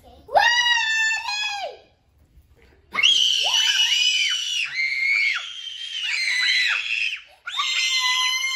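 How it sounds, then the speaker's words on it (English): Children scream loudly and shrilly during a Twister game, one long scream, then a pause, then a sustained overlapping chorus of high-pitched screams. "And scream really loud for 10 seconds."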